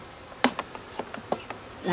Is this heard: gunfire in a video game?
no